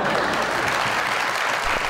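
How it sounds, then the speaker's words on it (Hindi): A television studio audience applauding for Bobby: dense, even clapping from many hands, loud and close, holding steady without a break. "बॉबी के लिए बजवाई हमने तालियां।"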